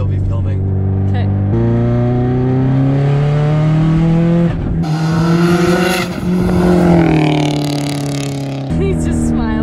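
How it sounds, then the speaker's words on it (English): A 500 hp Subaru STI with a turbo revving hard as it drives past, engine pitch climbing and shifting through several steps, loud and close inside the car, with people talking over it. "I tried to give the turbo a little stu-du-du-du when I went past them"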